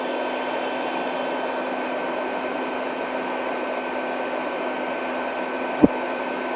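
Vacuum running steadily at a large baldfaced hornet nest, a constant close whooshing hum with a single sharp click near the end and no talk.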